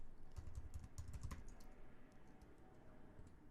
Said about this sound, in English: Here I'm going to type in